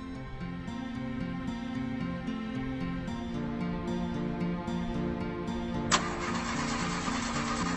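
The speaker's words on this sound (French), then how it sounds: "Démarre la voiture." A car's engine cranks and turns over, a steady mechanical hum with a rhythmic pulse, and a sudden brighter broadband burst near the end as it catches; no talk.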